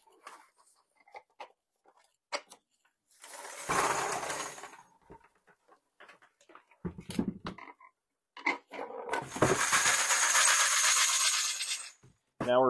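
A tumbler full of brass shells and cleaning media rattles and churns loudly in two long runs, with scattered clicks and knocks between them.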